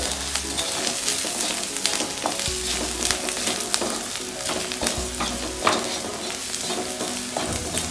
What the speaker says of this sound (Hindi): अच्छे से मिक्स करते हैं सारे मसालों को।